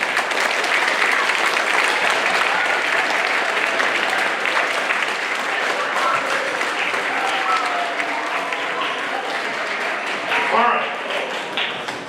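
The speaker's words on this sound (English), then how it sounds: "give yourselves a round of applause" Sustained applause fills a school auditorium at a middle school spring concert, the audience clapping loudly and steadily for about twelve seconds, with cheers rising briefly near the end.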